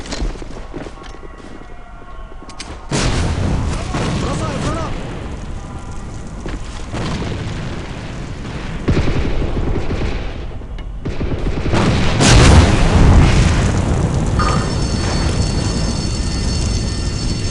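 A grenade explosion in the online shooter AVA booms amid dense, loud battle noise with repeated gunfire-like bursts and rumbling impacts throughout.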